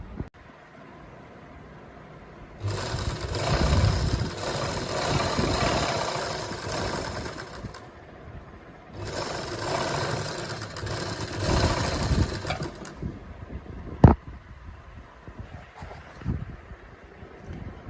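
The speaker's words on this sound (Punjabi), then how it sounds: "ਇਸ ਤਰ੍ਹਾਂ ਪਲਟੀ ਮਾਰ ਕੇ ਇਹਦੇ ਸਲਾਈ ਲਾ ਦਿੰਨੇ" A sewing machine stitches zig-zag lace onto a suit in two sustained runs of steady motor whir and needle chatter, separated by a short pause, followed by a single sharp click.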